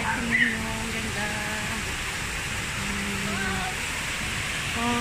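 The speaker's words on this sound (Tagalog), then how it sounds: "Ayan, falls." A waterfall produces a constant, even rush of falling water, with faint tonal voices or other sounds drifting over it.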